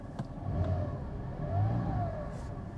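Porsche 718 Cayman GT4 engine revs up and accelerates twice in a steady mid-pitched drone, heard from inside the car with no talking.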